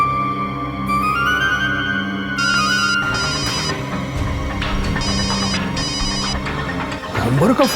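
A telephone rings loudly with a repeating electronic ringtone that carries on for several seconds, with a busy dramatic backdrop mixed in.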